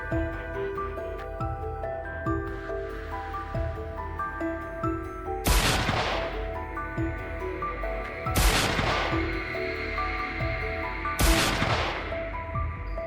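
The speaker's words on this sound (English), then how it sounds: "Gunshots still rang out here and there, proof that many were still lurking nearby." Rifle shots from a wild boar hunt: three sharp, loud cracks spaced a few seconds apart, each with a short echoing tail, over a steady background of music.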